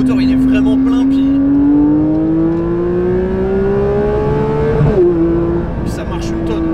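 Porsche 992 GT3 flat-six engine revving hard under acceleration, a loud steadily rising tone climbing through the gears, with a brief dip near the end before settling into a steady high drone.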